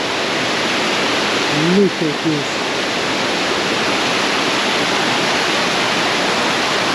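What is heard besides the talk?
waterfall roaring up close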